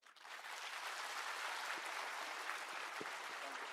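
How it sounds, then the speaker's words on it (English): A large audience at a hospital institute event applauds in a dense, sustained wash of clapping that swells in quickly and holds steady, fairly distant in a big hall. "Okay, a big round of applause."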